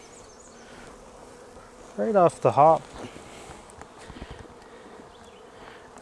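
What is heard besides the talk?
honey bees at a hive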